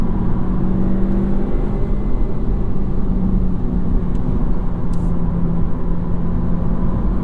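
A 2025 Honda Civic Si at full throttle, heard from inside the cabin as a loud, steady engine drone with road roar, no talking.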